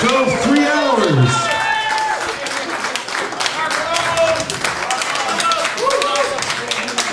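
An auditorium audience claps and cheers for a performer after a cheese song, dense close applause with whoops and lively voices mixed in throughout.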